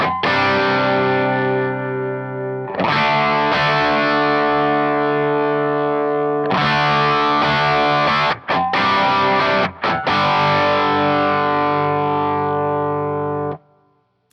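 Electric guitar driven through an Origin Effects M-EQ Driver overdrive pedal with the mids pushed up for a nasal, cocked-wah tone, played as sustained ringing chords in three long phrases with brief gaps, loud and alone.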